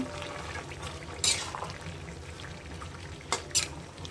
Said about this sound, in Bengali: বরবটি সিম এখন এটা এর মধ্যে কষাবো